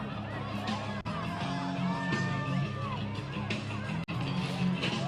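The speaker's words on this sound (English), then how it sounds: "The crowd is going berserk here with this product." Crowd of spectators cheering and yelling at a snowboard rail jam, a continuous loud roar of whoops and shouts with two brief dips in the din.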